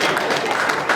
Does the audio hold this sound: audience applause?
yes